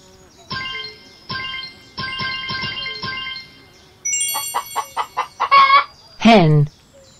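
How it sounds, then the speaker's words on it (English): A cartoon hen clucks in a series of short, loud, evenly spaced calls, then runs into a quicker rising burst of clucks and a sharp final squawk. "Hen."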